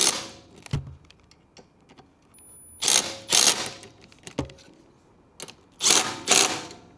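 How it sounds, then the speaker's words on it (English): A ratchet tightens bolts on the backrest of an adult electric tricycle, with several short bursts of rapid clicking separated by quiet gaps and a few isolated knocks, close by. "Now I'm going to go ahead and tighten up the remaining"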